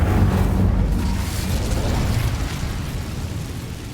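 Incendio, a fire spell in the Hogwarts Legacy video game, bursts out as a loud, deep rumbling whoosh that slowly fades over a few seconds.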